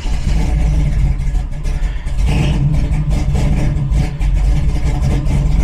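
A car engine running right after tuning adjustments, a loud, steady, close rumble that holds throughout with small surges in level and no voices.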